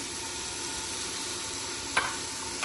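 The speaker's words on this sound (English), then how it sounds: "Now I'm gonna add the green peppers" Green peppers go into a hot pan for a Spanish dish, raising a steady, bright sizzle, with one short clatter as they drop in, close and without talk.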